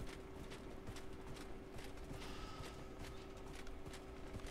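Horse hooves clip-clop steadily in the Dragon Age Inquisition game, a continuous run of close, regular hoofbeats with a faint steady tone beneath and no voices.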